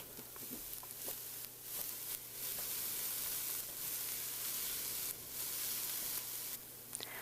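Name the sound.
diced onion sizzling in a skillet over medium heat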